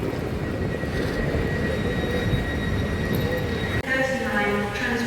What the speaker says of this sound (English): I think my other train's just arrived as well